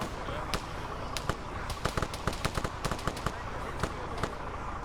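Gunfire from the video game World War Z, with scattered sharp shots and short bursts over a dense, steady background of game noise.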